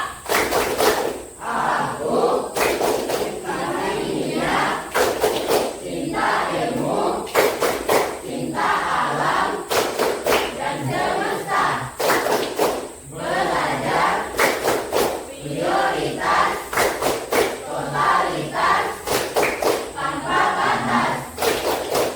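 Indonesian school chemistry class doing a rhythmic clapping chant, loud group claps in repeated patterned bursts mixed with shouted voices throughout, dense and close.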